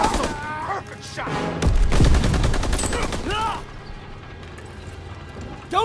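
Gunfire and explosions from a World War II battle in Call of Duty WWII: bursts of rifle and machine-gun fire, a heavy blast in the middle, and shouted voices mixed through the fighting.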